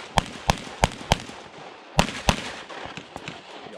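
Handgun shots at an IPSC shooting competition stage, four sharp reports in quick rhythm, a pause, then two more followed by fainter distant shots from other ranges.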